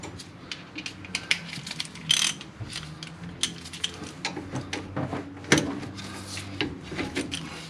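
A hand ratchet clicks rapidly while loosening 13 mm bolts on a Ford F-150 front brake, close metallic pawl chatter in uneven bursts with occasional clanks of tools and parts, no speech.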